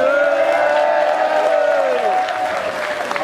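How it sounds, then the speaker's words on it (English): Crowd at a live rock festival concert applauding and cheering, loud and sustained with shouts rising over the clapping before easing slightly near the end. "can you give a big, big round of applause and a big lots of noise for all the crew at S.O.S."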